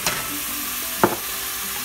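Ginger, garlic, onion, turmeric, chili, coriander and cumin powder sizzle steadily in hot oil for a spicy octopus dish, with two sharp scraping stirs of a utensil breaking through the continuous frying hiss.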